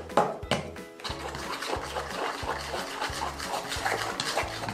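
Nut butter is stirred into gluten-free banana bread batter in a bowl: rhythmic, close scraping and squelching strokes repeating steadily throughout.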